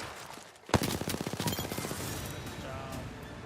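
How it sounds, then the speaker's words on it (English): Gunfire in Apex Legends: a sharp loud shot cracks out, followed by a rapid rattling burst of automatic fire that gradually fades into a noisy battle backdrop. "Getting shot at."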